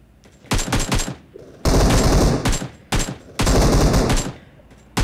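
Automatic rifle fire in the BGMI battle royale video game, loud close bursts of rapid shots in long sustained volleys separated by brief pauses, with a few short single-shot groups.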